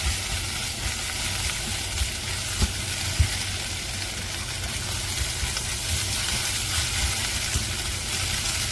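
Onions fry in a pan for Korean curry, giving a constant crackling sizzle with a few soft clinks of stirring, steady and close, with no talking.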